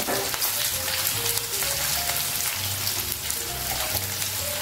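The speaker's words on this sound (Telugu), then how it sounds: "ఉల్లిపాయలు పచ్చిమిర్చి వేసేసుకుంటాం." Onions and green chillies frying in a pan for a bitter gourd masala curry: a steady, dense sizzle and crackle that holds without pause throughout, with faint low kitchen hum underneath.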